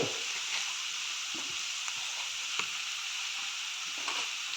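Coconut oil frying in a pan for Kerala-style pepper chicken curry, a steady bright sizzle with occasional soft stirring clicks and pops, close and continuous throughout.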